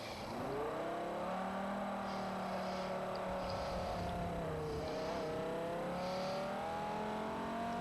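A race car engine in Forza 4 drones through a circuit lap, its pitch sweeping up and dipping through gear changes and corners, loud and continuous with no voices over it.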